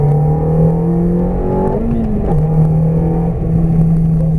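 A Ferrari F430 accelerates on the Jean-Pierre Beltoise circuit, its engine a loud, steady roar heard from close by that dips briefly and then climbs again as it pulls, with no voices.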